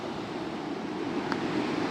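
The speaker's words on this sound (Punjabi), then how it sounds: "ਤੁਸੀਂ ਵੀਡੀਓ ਦੇ ਵਿੱਚ ਪਾਣੀ ਦੀ ਆਵਾਜ਼ ਬਿਲਕੁਲ ਸੁਣ ਰਹੇ ਹੋਵੋਗੇ ਪਾਣੀ ਦੀ ਆਵਾਜ਼ ਆ ਬਹੁਤ ਜ਼ਿਆਦਾ" Water flowing at Poolga dam makes a steady, even rushing wash through the whole short stretch, close and continuous, with wind-like noise and no voices.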